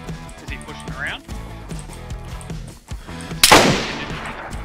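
Gunfire in a military-style video game, with several shots including a loud sharp burst near the end, heard over background music and game noise while players talk.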